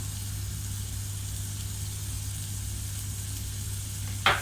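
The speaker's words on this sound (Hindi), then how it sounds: "इसको तकरीबन हम 2 से 3 मिनट के लिए भून लेंगे।" Chilli garlic sauce with soy sauce, Kashmiri red chilli and ketchup fries in a pan with a steady, even sizzle and low hum throughout, ending in one brief scrape or stir, without talk.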